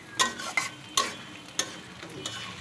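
Onions fry in a pan for chicken biryani, browning down to crisp slices. A soft sizzle runs underneath a handful of sharp, spaced clinks and scrapes from stirring, roughly one every half second. Nobody speaks.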